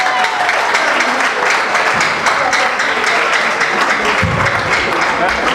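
Dense, steady applause from a large audience fills the whole stretch, with no break in the clapping.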